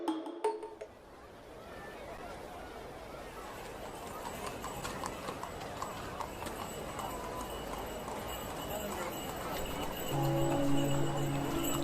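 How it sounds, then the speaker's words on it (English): Horse-drawn carts on a Victorian Sydney street in the 1850s, hooves clip-clopping steadily beneath a busy, murmuring street ambience with faint clinks, the scene fairly quiet and distant. "The streets are bustle with horse-drawn carts and people going about their business."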